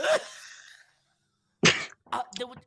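A sharp sneeze bursts out, followed by a pause and then a few people talking nearby.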